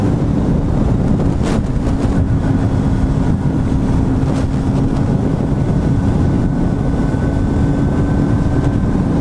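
Superlite Sprocket motorcycle under way, its engine droning steadily beneath heavy wind buffeting across the microphone, with a faint whining tone running throughout.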